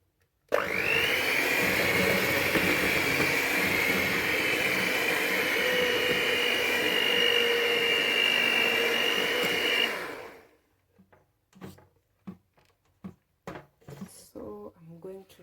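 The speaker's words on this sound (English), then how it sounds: "It's really hectic using this stand mixer anyway." Stand mixer kneading cinnamon roll dough, a loud steady motor whine running continuously for about ten seconds before stopping, followed by brief scattered clatter and handling noises.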